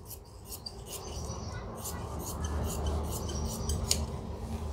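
Scissors snip through blouse-sleeve fabric in a quick, steady series of close crisp cuts, each followed by a soft rustle of cloth.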